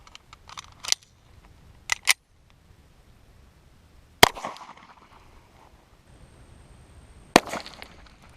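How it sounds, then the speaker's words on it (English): A pistol, 9mm or .45 ACP, is fired into a solid cinder block, heard as a few sharp, isolated cracks spaced seconds apart in quiet surroundings, one leaving a short decaying tail. "So I'm going to fire another shot for you guys"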